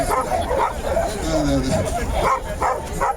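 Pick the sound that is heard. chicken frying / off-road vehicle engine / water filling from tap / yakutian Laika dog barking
yakutian Laika dog barking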